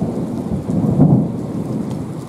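A sudden, heavy mountain downpour in the Western Sayan's Ergaki range roars steadily, with a deep rumble of thunder swelling and fading in the middle. No voices are heard.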